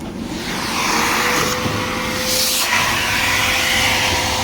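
A household vacuum cleaner switched on, giving a steady, close, loud whooshing hiss with a faint motor whine that holds through to the end.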